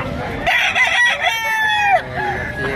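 Nearby rooster lets out a full, loud crow lasting about two seconds, with a rising and falling cadence.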